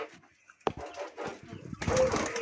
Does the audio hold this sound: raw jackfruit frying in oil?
no